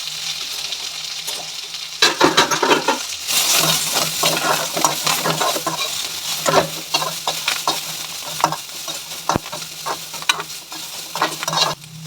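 Curry leaves, dry chillies and onion fry in hot oil, giving a loud continuous sizzle broken by repeated scrapes and clinks of a spoon stirring against the pan, heard close up with no voices.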